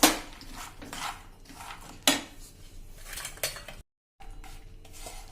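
A metal spoon scrapes and clinks against a vessel as spiced peanut masala is transferred into it, sharp irregular knocks close by, with a short silent gap near the end.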